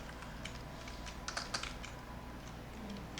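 Keystrokes on a computer keyboard for a Ctrl+C, Ctrl+V copy and paste, a few quiet key clicks in a small cluster, fairly soft over steady room background with no talk.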